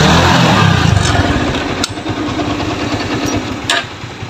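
A Kawasaki Ninja FI motorcycle engine runs loudly up close, revving briefly and then settling into an uneven, throbbing idle with a couple of sharp blips.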